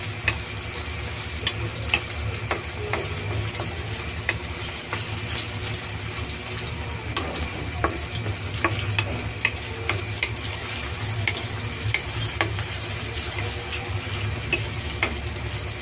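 Tomato and onion sautéing in a pan for a homemade chop suey with chicken, giving a steady broad sizzle with scattered scraping stirs and light clicks throughout, no voices.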